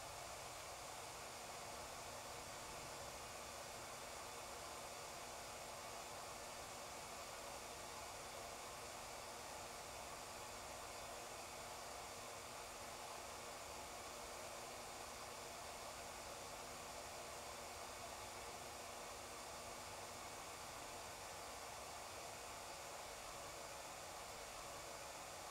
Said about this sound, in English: it looks like we're ready to go over and start welding